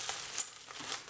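Scrapbooking mail parcel packaging crinkles as it is unwrapped, a few short crisp rustles and crackles up close, quiet and without speech.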